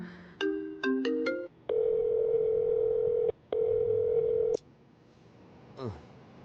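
A telephone sounds, first with a few short tonal beeps, then with two long steady electronic tones separated by a brief gap, close and clear, and a faint sliding tone follows.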